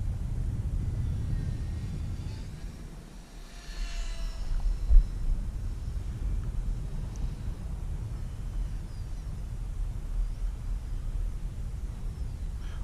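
Nano Delta ultra micro RC plane under 30 grams in flight, a thin, faint buzzing motor drone that swells and fades as it passes, steady against wind and background hiss, with a brief bump midway.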